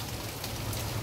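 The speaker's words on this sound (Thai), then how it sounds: "แม้ฝนจะตก" Steady rain falls at night in Bangkok, a continuous hiss with no break and no voices heard.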